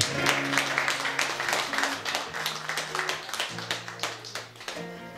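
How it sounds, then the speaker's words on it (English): A live concert audience claps and applauds for the photographer, a dense steady patter of hands with a held musical tone running underneath. "let's give him a round of applause too"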